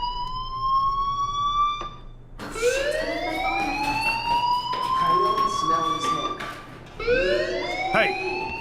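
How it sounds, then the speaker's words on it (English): A fire alarm in the video game Life Is Strange wails with a rising, sweeping siren tone that repeats in long cycles, loud and continuous in the scene. "Hey, do you hear that fire alarm?"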